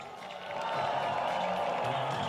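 A crowd at a freestyle event cheers and applauds, a steady wash of claps and shouts that swells after a brief moment and holds loud and even.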